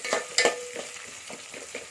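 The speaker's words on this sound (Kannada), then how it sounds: "ಒಂದು ಉಳ್ಳಾಗಡ್ಡಿ ಸಣ್ಣದು ಒಗ್ಗರಣೆಗೆ ಹಾಕಬೇಕಾಗತ್ತೆ. ಚೆನ್ನಾಗಿ ಫ್ರೈ ಮಾಡಬೇಕು." Chopped onion fries as a tempering for a ridge gourd ennegayi, with a close, steady sizzle broken by a few quick spoon-scraping stirs in the pan and no talk.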